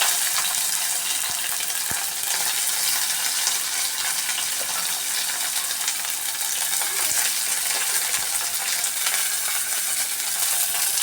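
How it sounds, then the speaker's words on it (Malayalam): Small onions and ginger frying in a pan for a Kerala beef roast, giving a steady broadband sizzle that holds level throughout with faint stirring clinks and no talk. "അതിനുശേഷം നമുക്ക് ചെറിയ ഉള്ളി ഇട്ട് കൊടുക്കാം."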